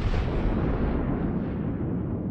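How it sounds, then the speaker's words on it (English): A battleship's main guns fire a salvo in World of Warships, a single loud, rumbling boom that rolls off and fades over a couple of seconds, with no talk. "And that was a very disappointing salvo"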